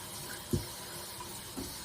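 Water runs steadily from a tap for washing farm eggs, a quiet, even flowing hiss with a couple of soft knocks.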